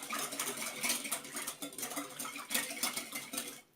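A spoon stirs yeast into warm milk in a bowl, making continuous scraping and clinking against the bowl at a soft, steady level, ending abruptly near the close.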